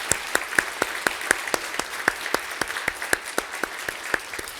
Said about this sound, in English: Sarah, what we're doing is we are applauding you for your vision and your unwavering commitment to expanding affordable housing and community development.